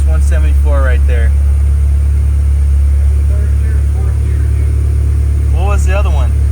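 Honda K20A or K24A engine running on a dyno, a steady loud drone with strong low rumble throughout, while people talk over it in short bursts.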